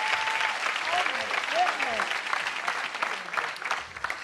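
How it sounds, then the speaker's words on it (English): An audience at a stand-up comedy show breaks into steady, dense applause that fills the whole stretch, with a few faint voices or whoops rising underneath. "Can we have a big, big, big, big round of applause?"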